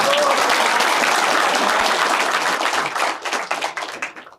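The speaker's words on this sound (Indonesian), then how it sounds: "Boleh dong kasih tepuk tangan." A youth audience at an Indonesian gathering with Anies Baswedan bursts into loud, dense applause that holds steady, then thins into scattered claps and fades out near the end, with a little talk mixed in.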